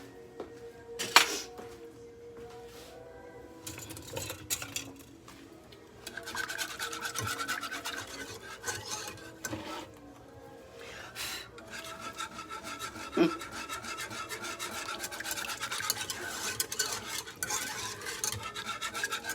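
A whisk rasps and scrapes steadily against a pan while stirring gravy for a Mississippi roast, making a continuous rubbing texture with irregular louder strokes and no talking.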